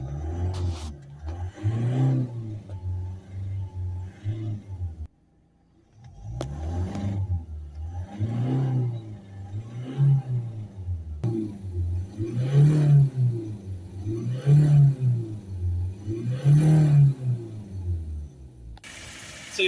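A Ford Transit Custom diesel van with a DPF fault idles, then is revved repeatedly; the engine note swells and falls in a series of rising revs close by, with a brief drop to near-quiet between early revs.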